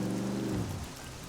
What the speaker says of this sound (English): It's going to get a lot wetter with this torrential downpour.